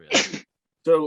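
A person sneezes once, sharp and close, with a short burst of talking right after a pause.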